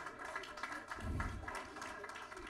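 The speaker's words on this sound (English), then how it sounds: "she deserves claps, please, to Magda Haroun" Audience applause for Magda Haroun at a live association event, a dense crowd clapping at moderate distance, swelling around the middle of the short stretch and then tapering.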